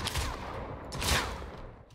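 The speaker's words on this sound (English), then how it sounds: "this is what happens when I shoot this one" Shooting viruses in an anime-themed video game: a quiet, brief flurry of rapid shots that swells to a peak midway and then fades.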